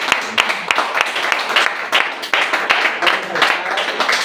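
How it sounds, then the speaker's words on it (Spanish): A church congregation claps loudly in uneven, rhythmic bursts during a Spanish-language worship service, with voices calling out over the applause throughout. "Bríndele un fuerte el aplauso de Dios"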